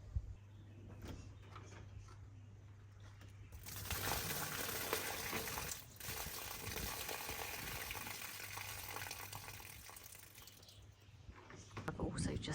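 Water is tipped out of garden trays in a broad, sustained splashing rush lasting several seconds, with a brief pause in the middle and softer trickling before and after, while a person talks intermittently.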